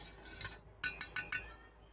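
A spoon stirs baking soda into lukewarm water, striking the container in a quick run of four bright clinks after one softer tap.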